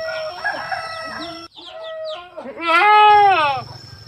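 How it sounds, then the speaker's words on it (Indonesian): A goat screams in pain after an injection of skin-disease medicine given under the skin: several short harsh cries, then one long, loud, wavering scream near the end, with no talk. "Ini kambingnya aja sampai teriak-teriak seperti ini."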